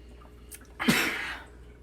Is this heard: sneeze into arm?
yes